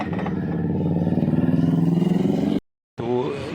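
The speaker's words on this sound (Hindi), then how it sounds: "इसमें एक प्रॉब्लम है, इंजन से एक नॉकिंग साउंड आता है" Bajaj Pulsar NS 200 motorcycle engine idling with a knocking fault from the camshaft gear, giving a close, rapid, regular tapping pulse that cuts out briefly and then resumes with a rising rev.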